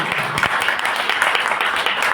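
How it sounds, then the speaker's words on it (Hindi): An audience claps loudly for speakers at a business event, dense sustained applause from many hands close by. "जोरदार नहीं जबरदस्त ताली बजाइए"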